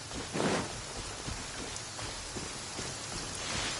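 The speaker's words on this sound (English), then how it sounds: "When did it start to rain?" Steady rain falls in the video game Genshin Impact, a constant wash of patter with a brief louder gust of drops near the start and a faint rumble beneath.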